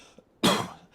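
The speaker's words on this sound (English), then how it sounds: "I apologize about these coughs." A single harsh cough bursts out loud and close, briefly trailing off, from a man recovering from a bad bout of COVID, set against a quiet room.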